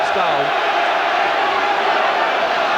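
Tottenham Hotspur supporters roar at a 1988/89 match against Charlton Athletic, a loud, steady wash of stadium crowd noise with cheering and chanting voices blending together throughout, a few higher shouts rising briefly near the start.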